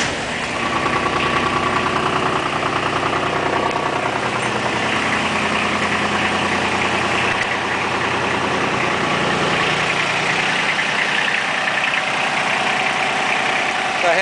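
A Ford XR3 car engine fitted with a clutch lockout, which has trouble running above idle, fires up and then settles into a loud, steady idle that continues alone for several seconds.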